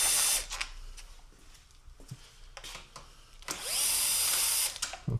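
A power tool whirs in two bursts while loosening T30 Torx screws on the front bumper of an R53 Mini Cooper S, with small clicks and handling noises in between.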